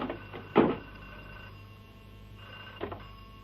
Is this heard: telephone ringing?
yes